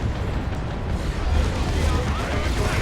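A plasma cannon fires in a Warhammer 40k: Dawn of War 2 multiplayer battle, a dense rumbling blast that rolls over a continuous din of combat noise.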